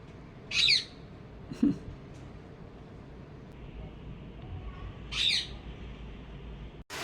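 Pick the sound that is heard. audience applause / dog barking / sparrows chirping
sparrows chirping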